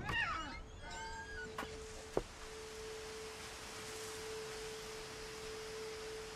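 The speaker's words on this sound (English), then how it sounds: "I heard a cat." A cat meows a few times early on in the video game What Remains of Edith Finch, faint and brief, followed by a steady electronic tone over quiet ambience.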